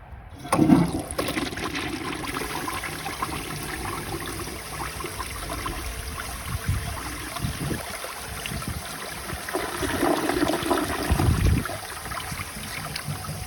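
A 1953 Gerber Arlington toilet flushes with a sudden rushing gush, then water swirls and trickles steadily as the tank refills, with a second surge near the end.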